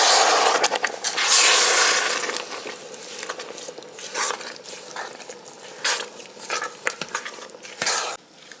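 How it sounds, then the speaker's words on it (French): A spoon stirs melon jam mixture with added water in a stainless pot on an induction hob, with repeated scraping and sloshing strokes in irregular bursts, loud at first and then intermittent. "je vais bien mélanger avec ma cuillère"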